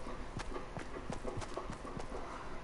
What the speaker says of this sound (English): This footstep sounds like someone else's, not mine.